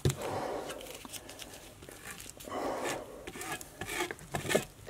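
Brush or palette knife scraping excess fluid paint back into a jar, soft intermittent rubbing and scraping strokes, quiet and close, with small taps and no talking.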